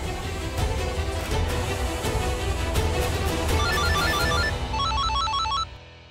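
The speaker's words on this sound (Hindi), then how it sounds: "फोन आ रहा है।" A phone ringtone chimes in a repeating melodic pattern over a busy, noisy background, cutting off abruptly near the end.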